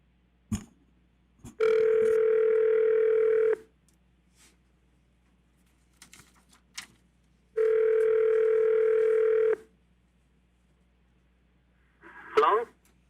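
A telephone dial tone sounds while a call is being placed during a city council meeting: two long steady tones, each about two seconds, separated by quiet, with brief clicks and a faint voice between.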